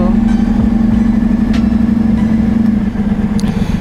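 A motorcycle engine idles steadily up close, a loud, even low throb with a constant hum running unbroken throughout, no talking over it.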